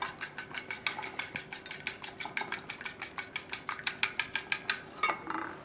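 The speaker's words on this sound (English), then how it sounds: "I'm going to give that a whisk to break it up." A cracked egg is whisked briskly in a dish, giving a rapid run of evenly spaced metallic clicks and taps, close and clear with no talking.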